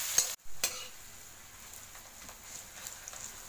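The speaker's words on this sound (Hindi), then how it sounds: "और ये भून के अदरक" Ginger frying in oil for a mixed cauliflower, carrot and turnip pickle, a faint, steady sizzle with a couple of stirring clatters at the start, quiet and close, no talking.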